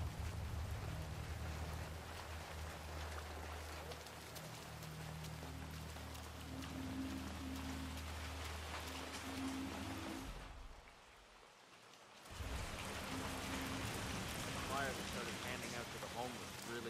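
Steady hiss of rain falling in the video game Hitman 3, a continuous wash with a low hum beneath, cutting out for about two seconds before returning just as strong.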